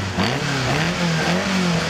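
A Westfield hillclimb car with a 1380cc Cosworth BDH engine at Gurston Down revs hard and steadily, its engine note climbing and dropping slightly as it drives past, loud and close throughout.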